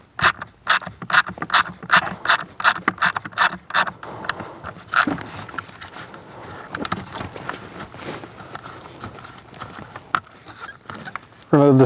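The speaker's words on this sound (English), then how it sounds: "we're going to use a T20 bit and we're going to remove the 3 screws for the blower motor" A ratchet with a T20 bit backs out the three blower motor screws on a 2011-2027 Dodge Durango front HVAC assembly, giving quick runs of close, rhythmic clicks, then looser, irregular clicking and handling noise.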